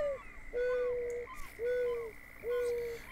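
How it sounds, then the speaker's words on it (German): Birds along the Neherrin River in Fishing Planet give three repeated cooing calls at an even rhythm, each a drawn-out hooting note with softer whistles behind, clear and fairly close over a quiet ambient bed. "Wir haben hier schon auch ein bisschen Vogelgeräuschkulisse."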